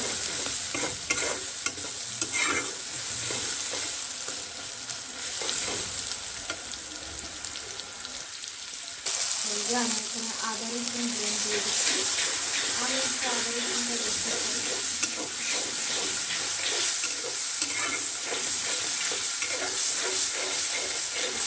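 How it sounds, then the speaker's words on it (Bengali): Onions fry lightly in oil in a pan, a continuous close sizzle with repeated stirring scrapes throughout and a brief dip in the middle before the frying resumes steadily. "পেঁয়াজটা অনেকটা ভাজি না হালকা হালকাই ভাজি"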